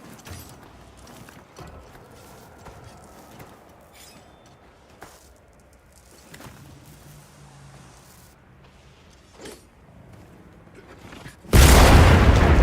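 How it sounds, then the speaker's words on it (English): A large barrel bomb goes off in Monster Hunter Wilds: after quiet game ambience with scattered clicks and soft thumps, a sudden loud, wide explosive blast hits near the end and sustains as a heavy roar. "Big bombs. Here we go. Large barrel bomb."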